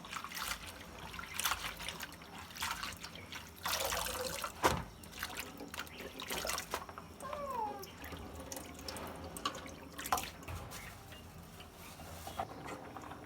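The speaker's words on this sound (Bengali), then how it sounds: "আমি শাকগুলো ধুয়ে নেব এবার ভালো করে" Spinach greens are washed under running tap water in a sink, with trickling and splashing that comes and goes in handfuls along with occasional knocks, fairly quiet and close, and no one speaking.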